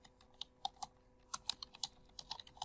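Typing on a computer keyboard, a close, quiet series of irregular clicking keystrokes with short pauses, no voices.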